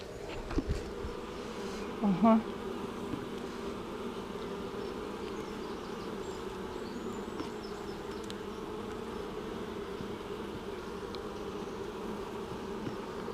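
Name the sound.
honeybees buzzing around an open hive during inspection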